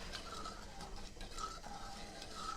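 A spoon stirs granulated sugar into caramel in a pot, making soft, steady scraping strokes that repeat faintly and alone.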